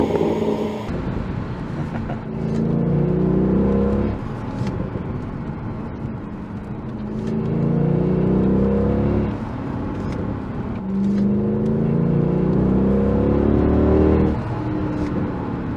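The V8 of a Mercedes-Benz W211 E63 AMG revs hard while driving, in three loud rising surges that climb and then fall back to a lower drone between them, heard close from the cabin.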